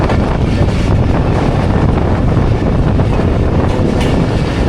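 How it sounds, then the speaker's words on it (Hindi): The Rehman Baba Express rolls on toward Landi Junction, a loud, steady rumble of rail noise heard from on board, with wind rushing over the microphone and no talking. "लांडी जंक्शन ट्रेन हमारी पहुंच रही है"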